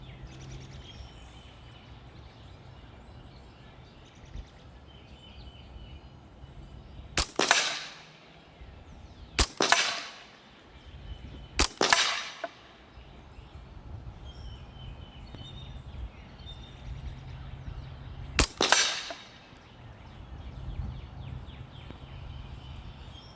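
Four sharp shots from a Hatsan Blitz .30 caliber PCP air rifle outdoors, each a crisp crack with a short ringing tail, spaced a few seconds apart over quiet ambient background.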